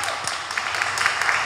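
Applause for the Keelung customs officers at a public event in Taipei, an even, continuous wash of clapping from a crowd, moderately loud throughout the short moment.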